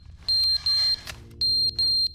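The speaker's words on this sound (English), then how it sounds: "That smoke detector?" Smoke detector in the video game The Stanley Parable chirping in high, piercing electronic beeps, four clear pulses in two pairs, fairly loud over a quiet room hum.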